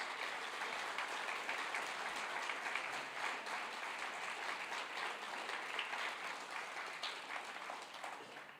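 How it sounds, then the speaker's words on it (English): Meeting audience giving staff members a round of applause, a dense, steady roar of many hands clapping that holds evenly and fades slightly at the end, with no voices. "So if we could give everyone, these staff members, a round of applause"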